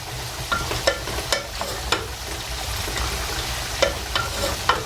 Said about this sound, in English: So I give it a nice quick mix.